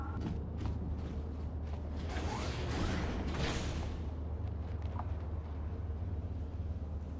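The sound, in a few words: automatic door opening with mechanical creak, from video game Star Wars: Knights of the Old Republic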